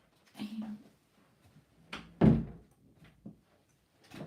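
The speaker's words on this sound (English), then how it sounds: "let me just try and close the door" A house door being pulled shut, a solid thunk with a low boom near the middle, preceded by faint shuffling and handling noises, close and fairly quiet.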